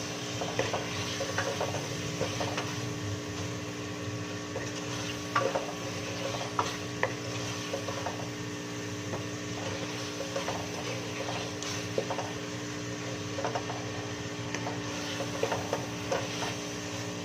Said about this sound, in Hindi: इतना भूनना है कि टमाटर अच्छी तरीके से गल जाए, प्याज भी गल जाए, सारे मसाले गल जाए।